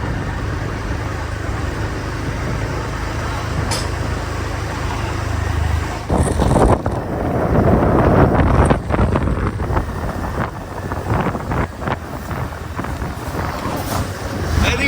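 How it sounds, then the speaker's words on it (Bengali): Strong wind buffets the microphone in a steady roar beside paddy fields with rice spread out, in West Bengal, India, gusting harder midway, with rumbling, blustery noise throughout. "দারুণ বাতাস হচ্ছে"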